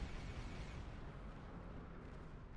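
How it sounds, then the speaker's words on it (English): Green disruptor cannons fire continuously from a Valdore starship in Star Trek Online, a dense, loud, roaring barrage of energy blasts with no pauses and no talking. "It definitely looks the part firing the green disruptors."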